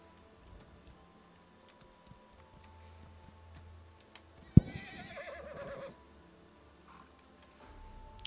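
A slow horse in the video game Elder Scrolls Online, heard in Cyrodiil as a sudden loud whinny of about a second over faint, ticking hoof and interface sounds, otherwise quiet.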